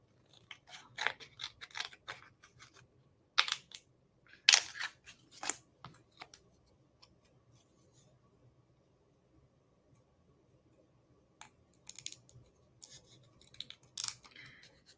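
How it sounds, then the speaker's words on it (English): Scissors snipping paper for a handmade card, a close series of crisp cuts in quick bursts that are separated by quiet pauses. "I'm going to change my scissors."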